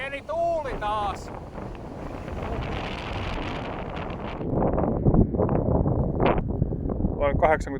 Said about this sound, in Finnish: Pieni tuuli taas!